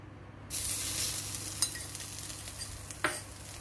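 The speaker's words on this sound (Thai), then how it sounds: "จะผัดพริกแกงให้หอม" Curry paste sizzles loudly in a hot coated pan on an induction stove from just after the start, with a couple of sharp scrapes from stirring.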